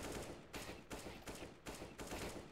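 Rapid bursts of gunfire while shooting bots in a video game, five or six short dense volleys in quick rhythm, faint overall with no talking.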